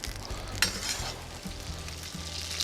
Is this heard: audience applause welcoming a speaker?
no